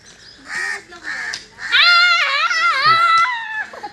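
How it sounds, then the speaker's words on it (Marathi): A crow caws loudly several times in a row, harsh drawn-out calls, close by. "कावळा पळाला तर बघा"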